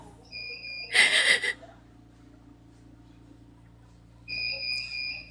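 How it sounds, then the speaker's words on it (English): Two electronic beeps, each a pair of steady high tones, sound about three seconds apart over a quiet background, with a brief loud burst between. "everybody on here gets annoyed by the beeping"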